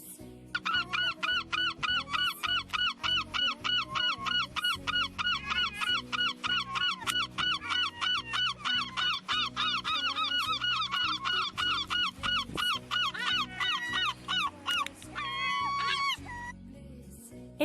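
A seagull gives a long series of sharp, repeated cries in a steady rhythm, close and loud, with a few higher squawks near the end.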